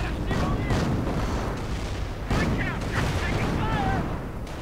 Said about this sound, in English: And we are seeing radius artillery going down.